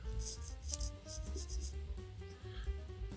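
Soft, gentle rubbing as paint is scrubbed off a soaked figurine, a quiet close scraping with steady strokes over faint background hum.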